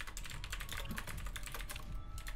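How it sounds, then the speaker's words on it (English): Fast, steady typing clatters on a computer keyboard during a game, with rapid, closely spaced key clicks that run continuously and fairly quietly, with no talking. "JK Rowling over here typing a f***ing book"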